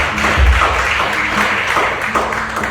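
A church congregation applauding during a worship service, loud and close, a busy patter of claps with low rumbling tones and a few sharper taps mixed in.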